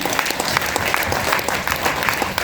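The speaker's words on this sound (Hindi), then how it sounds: "एक बार मैं गुरुदेव के नाम पे जोरदार तालियां चाहूंगा" Audience clapping at a motivational seminar, brisk and steady with sharp individual claps standing out from the crowd's continuous patter throughout.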